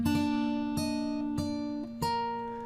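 Plucked acoustic guitar notes from the Game of Thrones theme ring out in a slow fingerpicked line, four clear attacks with sustained, overlapping tones, played close and alone.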